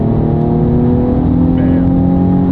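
A Nissan 350Z with an aftermarket exhaust drones steadily and loudly from inside the cabin under acceleration, a continuous low engine hum with no break, and a voice faintly present beneath it.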